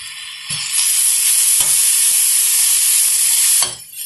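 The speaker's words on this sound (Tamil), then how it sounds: "ஜஸ்ட் ஒரே ஒரு நிமிஷம் தான் வதக்கியிருக்கேன்." Carrots sautéing in a hot pan make a loud, steady sizzle close by, broken by a few soft knocks of stirring before the hiss fades at the end.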